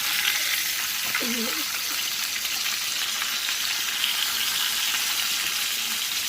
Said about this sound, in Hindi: दूसरी साइड हम इसकी पकाएंगे, फ्राई कर रहे हैं।